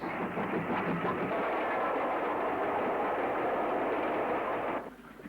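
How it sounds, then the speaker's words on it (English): A steam train runs past Bromsgrove signal box, near a relief loco men's cabin and a water crane. It makes a loud, steady, close rumble with rolling wheel clatter, which ends abruptly near the end. "The second train passing the relief loco men's cabin, water crane and signal box"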